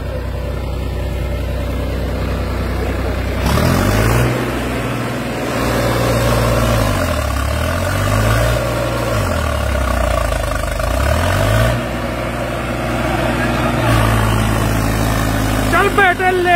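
A Farmtrac 45 tractor engine idles close by with a loud, steady low diesel throb, its pitch dipping and rising in a few slow waves before settling back to a constant idle.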